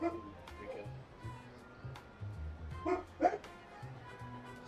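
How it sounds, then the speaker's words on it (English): A dog barks several short, fairly distant yips and woofs over a few seconds, faint and scattered beneath a background of low voice and room noise. "Oh god, my dog."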